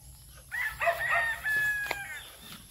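A single rooster crows nearby, a drawn-out rising and falling call lasting about a second and a half over quiet background.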